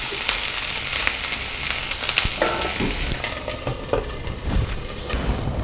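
Ivy gourd (kovakkai) being stir-fried for poriyal in a pan makes a loud, continuous sizzle, with scattered spatters and scraping clicks as the pieces are turned over.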